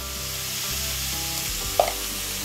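Potatoes and peas fry in a pan, a steady close hiss of sizzling oil with a single light clink of a spoon partway through, and no voices.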